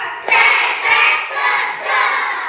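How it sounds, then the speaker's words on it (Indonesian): Schoolchildren in a fourth-grade class clap together in a counted clap game, giving loud, swelling bursts of clapping mixed with shouting young voices, close and filling the room. "Tepuk dua."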